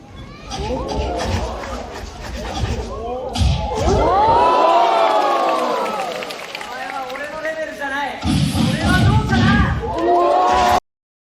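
Crowd reaction sounds, loud cheering, shouting and excited chatter from many voices, rising and falling in waves with a sharp impact or two, alongside a scene of people kicking in the air and pushing each other away.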